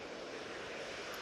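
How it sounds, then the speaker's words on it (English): A Jet2 Airbus A321ceo airliner takes off from Manchester Airport, its engines giving a steady, broad roar that holds at an even level without any voices. "This Jet2 321 CEO now blasted off."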